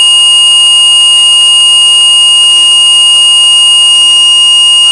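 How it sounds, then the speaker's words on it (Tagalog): A steady electronic alarm buzzer from a smart alarm system sounds continuously with a high, harsh tone, loud and close, running unbroken throughout. "Nag-trigger yung buzzer natin at yung alarm triggers na indicator umilaw."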